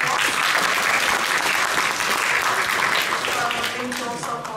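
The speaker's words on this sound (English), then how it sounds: "Let's have a round of applause." Audience applause fills the room after a public humanities lecture, steady and loud clapping from a large crowd, tapering slightly toward the end.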